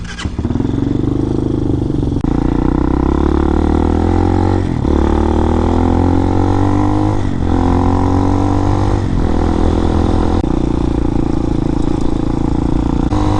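A 2019 RPS Hawk DLX 250 motorcycle engine roars up close, revving through several gear shifts as it pulls away and keeps riding at a loud, steady pace.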